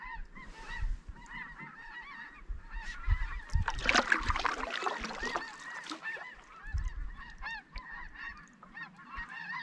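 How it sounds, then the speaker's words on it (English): A flock of geese calls high overhead at a Saskatchewan lakeside camp, honking in repeated, layered bursts that swell in the middle and stay distant and continuous throughout. "They sound like little chirping birds."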